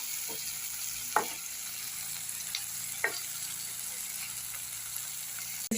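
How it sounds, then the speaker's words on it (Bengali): Salted tomatoes sizzle and fry in a pan, a steady crackling hiss broken by a few sharp spatula scrapes as they are stirred. "এবার নেড়ে দেবো টমেটোগুলো একদম"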